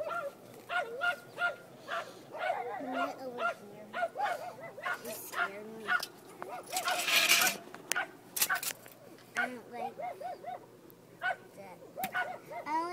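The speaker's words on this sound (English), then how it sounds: "Dogs next door are so annoying." Repeated dog barks and yips from a short distance, coming in quick bursts throughout, with a person talking over them at times.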